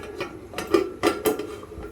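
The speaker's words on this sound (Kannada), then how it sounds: "ಈಗ ನಾನು ಲಿಡ್ ಕ್ಲೋಸ್ ಮಾಡ್ತೀನಿ." Metal lid set onto a pot of green vegetable biryani, a quick run of sharp clanks and rattles, three or four close hits within two seconds in a quiet kitchen.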